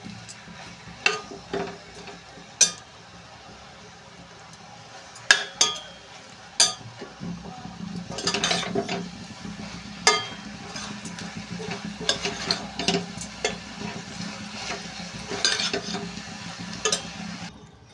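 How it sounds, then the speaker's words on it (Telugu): Prawns and onions fry in a pan with a steady low sizzle, broken by scattered clinks and scrapes of a spoon stirring, close up, with no voices. "రొయ్యలు ఉల్లిపాయలు బాగా ఫ్రై చేసుకోవాలి. ఇవైతే ఫ్రై అయిపోతున్నాయండి."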